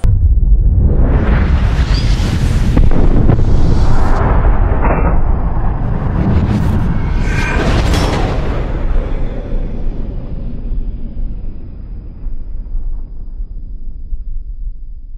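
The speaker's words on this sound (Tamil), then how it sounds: "இந்த 2-inch வரக்கூடிய இந்த ஃபயர் ஒர்க்ஸ், அதாவது இதே NSV ஃபயர் ஒர்க்ஸ் தான் இதுவும் பண்ணியிருக்காங்க" 2-inch NSV aerial fireworks going off outdoors, a series of loud booming bursts and crackles over the first eight seconds, then fading into a long rumbling decay.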